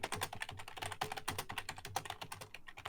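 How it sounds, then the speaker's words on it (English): A loud computer keyboard clatters with rapid, continuous typing, dense keystrokes close and steady for the whole stretch, with no talking. "why is your keyboard so loud?"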